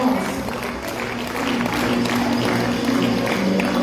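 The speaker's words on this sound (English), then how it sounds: "Please give them a round of applause." An audience applauds at a stage event: steady, dense clapping from a crowd that fills the whole stretch, with a faint murmur of voices underneath.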